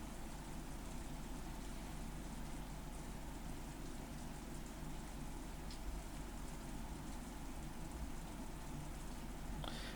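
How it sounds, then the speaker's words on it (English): Rain falls in the Umineko When They Cry visual novel, a soft, even hiss of steady rainfall that runs unbroken throughout. "All that could be heard was the sound of the rain"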